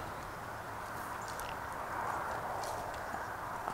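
Hooves of cows leaving a pen clop and shuffle faintly on the ground over steady outdoor noise on a homestead with new fencing, no voices.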